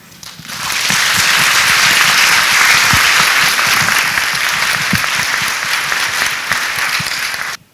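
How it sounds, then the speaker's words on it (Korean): A large audience at a youth talk-concert event breaks into loud, sustained applause, with dense clapping that swells within a second and holds steady for about seven seconds before cutting off. "사람들의 지금 박수가 답이 다 됐죠?"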